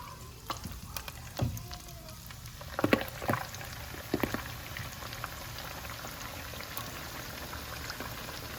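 Fried tacos dropped into hot oil bubble and sizzle steadily in the pan, with a few sharper crackles and spits rising midway against a constant low frying hiss.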